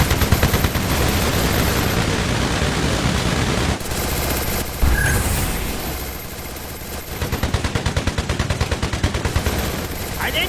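Continuous rapid automatic gunfire from Garena Free Fire, loud and dense, with brief breaks and rattling bursts throughout.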